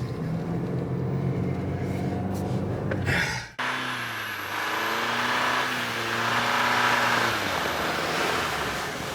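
Chevrolet Colorado ZR2 pickup engine pulled up toward the red line while driving in deep snow, a loud steady drone that rises, cuts off sharply, then climbs again through shifting revs.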